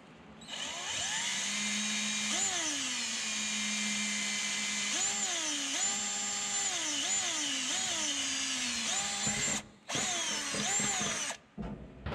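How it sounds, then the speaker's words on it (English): A power drill whines steadily for several seconds, its pitch dipping and rising as it bites into a metal brake pedal support on a 1967 Ford Mustang, with two brief stops near the end. "I have to drill through the actual pedal support here"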